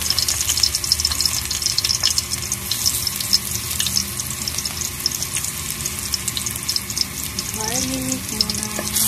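Garlic sautéing in a pan, a steady loud sizzle that goes on without a break, with faint clatters mixed in.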